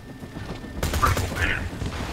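A laser weapon in Borderlands 2 fires a sudden, loud burst of crackling, rapid shots that holds over a dense, noisy battle din.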